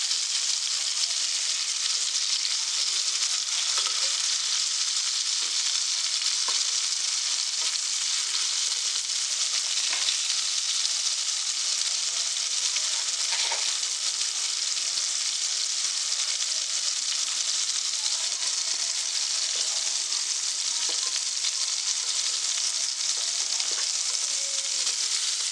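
Baby shark fish fries in oil for fish biryani, a dense, steady crackling sizzle sustained at an even level throughout, close by with occasional faint pops and no speech.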